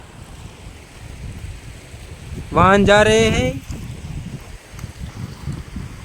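Floodwater that has entered a factory rushes past in a steady, loud wash, with someone speaking briefly over the flow midway.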